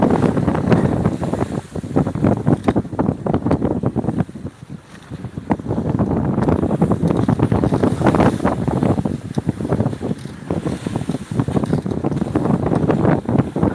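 Strong sea waves surge around a small boat out at sea, loud and close, with heavy wind buffeting the microphone and a brief lull midway.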